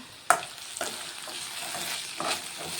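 Flat beans (broad bean pods) fry in a pan for a village-style tomato curry, a continuous close sizzle broken by several sharp scraping stirs of a spoon against the pan, no one speaking.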